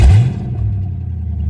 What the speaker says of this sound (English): it's open header, so it's not gonna sound good.